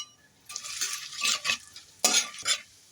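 A bay leaf and whole cumin seeds frying in mustard oil, with bursts of crackling sizzle and utensil scrapes against the pan in several loud, short surges separated by quieter pauses.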